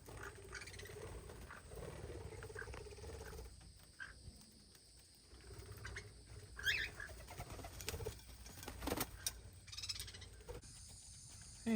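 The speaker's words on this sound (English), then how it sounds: "We're in the small parrot aviary now." Small parrots in an aviary chatter at feeding time, scattered faint chirps and squawks over a low background rumble, with occasional sharper calls and a brief flutter of wings.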